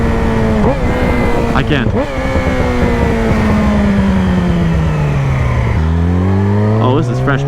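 A Yamaha R6 sport motorcycle being ridden, its engine loud and close, revving up and down through gears with rising and falling whines and sharp throttle blips, while a rider briefly speaks over it.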